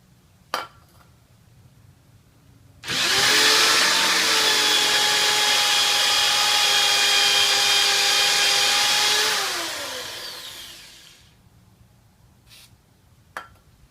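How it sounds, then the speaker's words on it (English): A power drill bores through an old screw in the brake rotor hub of a Kia Soul, a loud steady high whine for about six seconds that slowly winds down, with faint clinks before and after. "So I'm just going to drill through here."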